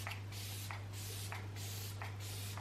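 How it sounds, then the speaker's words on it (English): A facial mist is spritzed onto a face in about four short, soft bursts of spray at fairly even intervals, over a low steady electrical hum in a quiet room. "I'm just going to spritz my face with"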